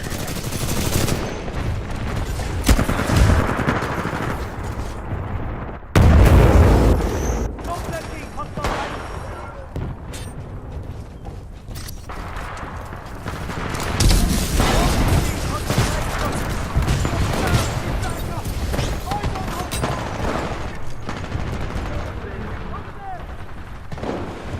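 Heavy mech combat in Titanfall, with bursts of gunfire, booms and explosive impacts overlapping continuously at close range and high volume, and voices in the background.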